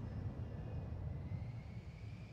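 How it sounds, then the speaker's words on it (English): Steady jet engine roar from an airplane taking off at an airport in Sim Airport, a continuous faint low rumble with a thin rising whine over it and no talk. "Plane's taking off, plane's coming in"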